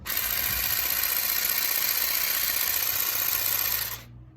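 A Parkside cordless battery trimmer running, a steady high-pitched electric motor whine held close and loud for about four seconds before cutting off abruptly.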